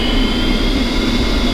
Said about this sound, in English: We'll now repeat the process for the right engine. Once again, the engine is started by moving the throttle from off to idle